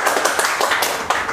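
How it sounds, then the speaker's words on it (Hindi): In a phone repair shop, a quick burst of about half a dozen sharp hand claps rings out close by, uneven and lively, with no speech over them. "ये तालियां किसके लिए बज रही हैं?"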